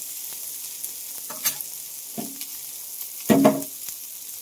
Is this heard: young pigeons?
no